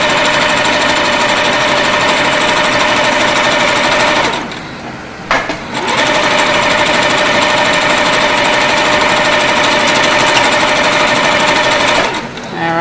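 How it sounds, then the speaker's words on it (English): Stay stitching on fabric with a sewing machine that runs loud and close in a long continuous drone, pausing briefly once midway before resuming, with no backstitching. "I just want to show you how to stay stitch the other side."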